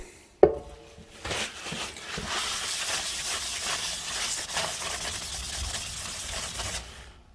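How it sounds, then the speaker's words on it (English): Brake cleaner sprayed from an aerosol can at a workshop bench while fitting a linisher attachment to a bench grinder: a sharp click, then a steady, loud hiss lasting about six seconds before cutting off. "Brake cleaner."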